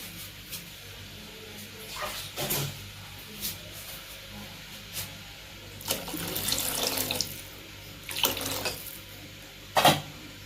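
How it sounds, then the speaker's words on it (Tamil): Water is poured into a cooking pot, running and splashing intermittently close by, with clinks of the vessel and quiet background noise between the bursts. "இந்த அளவு தண்ணி ஊற்றிக்கோங்க"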